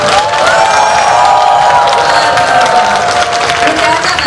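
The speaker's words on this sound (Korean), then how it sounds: "오늘 아침 박수 한번 쳐볼까요?" Loud applause and cheering from an audience at a lecture and song event, close and dense clapping mixed with shouts and whoops, with one high sustained voice riding above the crowd.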